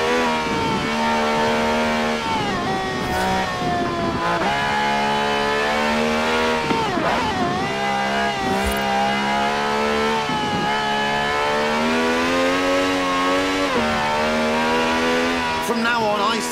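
V12 engine of over 750 horsepower in Forza Horizon 4, a loud continuous revving drone that rises and dips with gear shifts and brief tire squeals, close up, with a voice talking over it.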